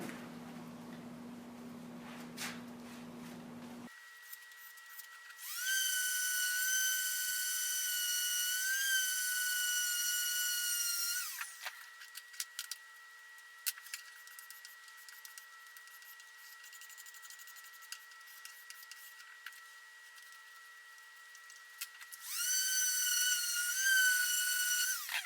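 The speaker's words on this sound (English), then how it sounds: "these hoops are stripped and sanded" A power sander works on stripped snare drum hoops from classic Eames rope tension snare drums, whining steadily in two long bursts, one roughly six seconds and a later shorter one, with quieter handling and scraping between.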